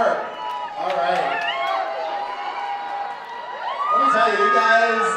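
A Chippendales opening-night crowd in Las Vegas cheers and whoops loudly, with rising shouts and screams surging near the end and a voice speaking over the noise.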